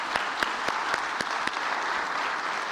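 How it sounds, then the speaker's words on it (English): Audience applause for the governor at a disaster resilience summit, a steady dense wash of clapping from a crowd, fairly loud and sustained, with a few sharper individual claps standing out. "Another round of applause for the governor."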